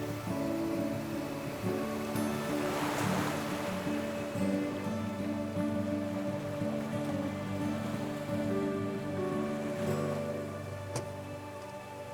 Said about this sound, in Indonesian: Akhirnya kita sampai di sebuah pantai terpencil yang belum ada namanya